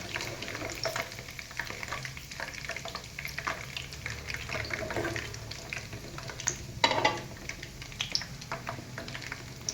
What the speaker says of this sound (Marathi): आपण आता शेंगदाणे तळून घेऊया चांगले एकदम खुसखुशीत असे तळून घ्यायचे आहेत